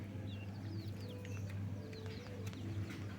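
Crossbred jungle fowl hens clucking softly and steadily at a farm, joined by other bird calls over a constant low background hum.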